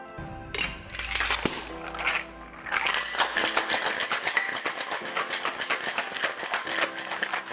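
A cocktail shaker is shaken hard to mix a mango mai tai, giving a loud, steady rattle of ice that runs without a break for several seconds, with no talking over it.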